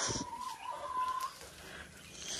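A laying hen on a windy farm gives soft clucks and calls over gusting wind noise, with faint bird sounds around, fairly close.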